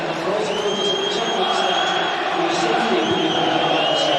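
A football crowd roars and cheers for Kilmarnock at a night match against Ayr, a steady loud wall of voices and whistles under commentary.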